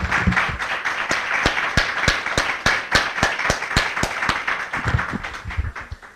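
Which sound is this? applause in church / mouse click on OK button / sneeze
applause in church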